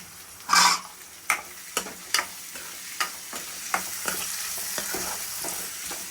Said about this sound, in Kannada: ಇವಾಗ ಕ್ಯಾಪ್ಸಿಕಮ್ ಜೊತೆ ಇದು ಬೇಯ್ಕೊಳ್ಳಿ.